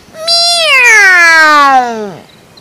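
A narrator's voice imitates a tigress meowing: one long, loud, drawn-out meow that slides slowly downward in pitch and ends abruptly, with no other speech around it.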